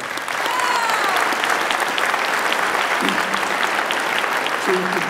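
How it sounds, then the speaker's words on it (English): A gym full of people at a high school Veterans Day program applauds JROTC students, a dense, steady wash of clapping that stays loud and continuous, with brief voices cutting in near the end. "Let's give them a round of applause"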